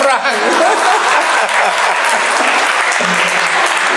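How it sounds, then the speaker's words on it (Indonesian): Loud, dense audience applause fills the room steadily and without pause, with a few chuckles mixed in beneath the clapping. "Tepuk tangan Pak Prang."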